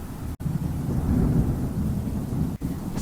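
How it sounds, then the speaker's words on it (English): A rumbling thunderstorm with steady heavy rain, a continuous low roar and hiss filling the clip, broken by two brief near-silent gaps; no voices. "Thunderstorm is a storm with thunder, lightning, heavy rains, and strong winds."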